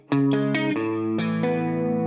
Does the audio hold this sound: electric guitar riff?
yes